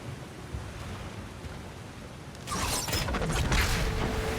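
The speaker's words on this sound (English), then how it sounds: "Sounds like you got the water moving along, brother." Water rushes through a stone channel in God of War Ragnarok as a steady, hissing wash. Partway through it swells into a louder, fuller surge with splashy detail.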